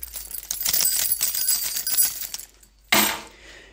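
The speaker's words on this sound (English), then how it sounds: "left my keys in my pocket" Keys jangling inside a pocket, a dense run of bright metallic clinks and rattles for a few seconds, then a brief pause and one sharp jingle that fades out.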